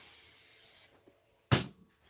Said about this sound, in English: Okay, I'm spraying my batting.